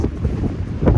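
Strong wind buffets the microphone on a wintry mountain top during a storm, a continuous low roaring rumble that swells louder near the end, with no talking.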